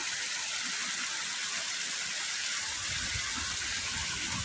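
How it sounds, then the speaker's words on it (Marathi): Steady rushing water of a waterfall in a forested ghat, a continuous broadband roar at moderate level with no pauses, heard alone without talk. "हे बघा धबधबा"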